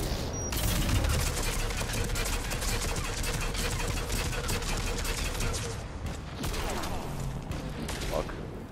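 Gunfire rattles in a sci-fi shooter video game: dense, rapid bursts of automatic shots and impacts run almost continuously, loud and close, with a voice talking over the fire.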